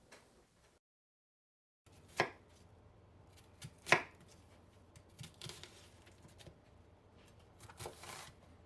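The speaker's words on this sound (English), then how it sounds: "Now you can cut your onion," A knife dicing an onion on a board, with sparse close chops and a few sharper knocks against the board after a brief silence, quiet overall.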